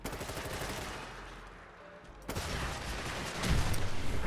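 Rapid bursts of G36 rifle fire in a Fallout 4 mod, dense and loud, easing off briefly before a renewed barrage of shots.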